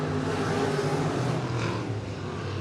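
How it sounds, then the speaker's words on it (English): IMCA modified race cars speeding around Sunset Speedway Park during a heat race, a loud, dense engine roar that holds steady and then eases slightly, with no clear voice over it. "Weinbarger in the Superman car owned by Jimmy Schramm is motoring out with a lot of speed"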